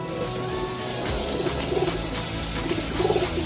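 Pigeons coo softly in repeated low, rolling calls over a steady background hum, with several coos clustered near the middle and end.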